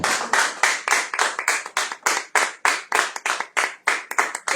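A church congregation clapping in steady rhythm to acclaim the Lord, with crisp, even claps repeating close together for several seconds and no voices.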